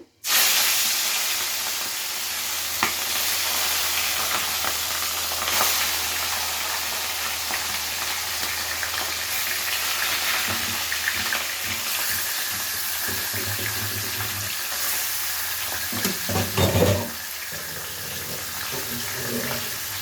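Katla fish pieces dropped into hot mustard-oil tempering: a loud hiss bursts up at the start and settles into a long, steady frying sizzle, with a brief flurry of scraping and crackling near the end.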